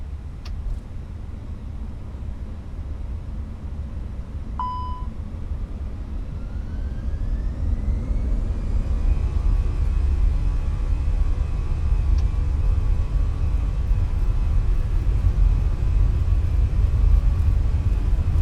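A Fenix A320 airliner in Microsoft Flight Simulator 2020 spools up for takeoff, a steady low engine roar building and growing louder while a rising whine climbs and then holds, with faint cockpit tones early on.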